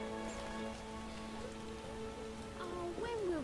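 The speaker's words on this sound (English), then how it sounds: "Oh, when will this rain stop?" Soft, steady rain falls in The Witcher video game, a faint continuous patter that stays in the background beneath tonal game music.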